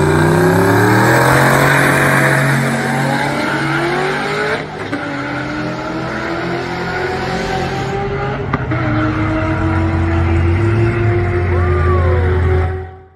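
A Nissan 300ZX Z31 roars loud and close through a drag run, its engine note climbing steadily through the gears with brief shift breaks, tire noise underneath, then cutting off abruptly at the end.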